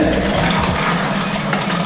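Pool water pours and splashes steadily into a swim cap held open like a bucket, a close, continuous rushing fill with no talking.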